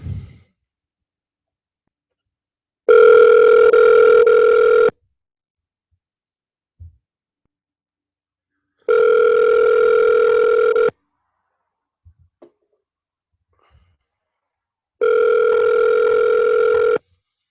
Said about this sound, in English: we're going to try to get Chris on the phone real quick